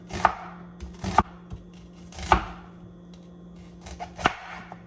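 A knife chops half a large onion on a cutting board, giving several sharp, separate thuds spaced about a second apart. The sound is close and moderately loud, with quiet room tone between the strokes and no talking.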